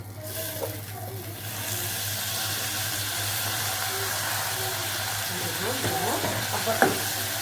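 Vermicelli toasting in oil in a pan for koshari gives a steady close sizzle and frying crackle, with occasional light scrapes from stirring and a sharper clink near the end.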